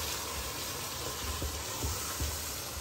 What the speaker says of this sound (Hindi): ये देखें कितनी अच्छा सी इसकी भुनाई हो रही है